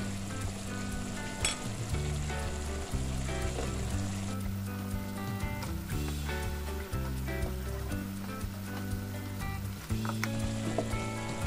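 Chilies go into hot oil for an Indonesian beef dish and fry with a steady, close sizzle and crackle, stirred now and then, with no talking over it.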